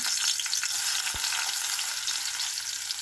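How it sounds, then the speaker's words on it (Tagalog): Garlic sizzles steadily in a hot pan for a Filipino sarciado of galunggong fish, with a dense, even frying hiss and one brief low knock partway through; no one speaks. "At ilagay na natin ang ating bawang"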